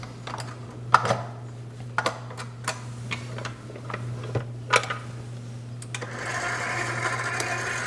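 A bakery mixer works a roughly 3-kilo batch of polenta bread dough, giving a steady low motor hum with repeated knocks and clatters, then a louder, brighter whir in the final seconds.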